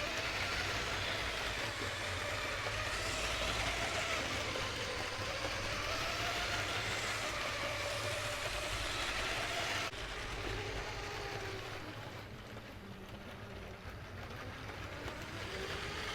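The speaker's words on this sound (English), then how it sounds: "Crocodile train." A LEGO Crocodile locomotive runs steadily along plastic track, giving a continuous rolling, whirring rumble that stays loud and close throughout, easing slightly near the end, with no talking.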